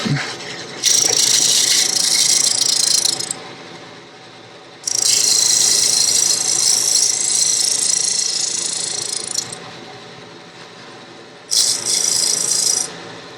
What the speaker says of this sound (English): Just using kind of a scraping action here.